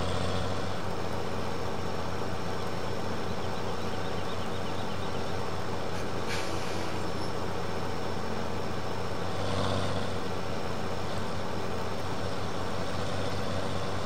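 A Cummins truck engine idles in the video game Farming Simulator 17, a steady loud drone with a low hum that runs unbroken throughout, no voices over it.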